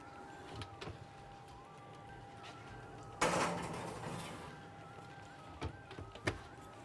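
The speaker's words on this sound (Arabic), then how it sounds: "نحطها بقى في الفرن." In a home kitchen, a baking tray of potatoes with kofta slides into the oven, and then the oven door shuts with a single firm bang, followed by a few light clicks and knocks in an otherwise quiet room.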